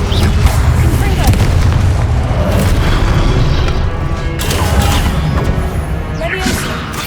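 Fire spell explosions in the Hogwarts Legacy video game, a dense, continuous barrage of booming blasts and crackling impacts layered over a loud game soundscape with no pauses.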